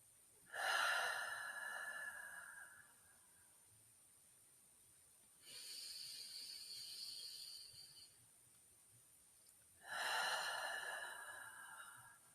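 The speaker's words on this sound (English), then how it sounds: "Take 2 more cycles of breath on your own, breathing in the Spirit's peace and love" Slow, deep breaths during a guided breathing exercise, three long breathy bursts spaced several seconds apart with quiet gaps between, close and soft with no talk over them.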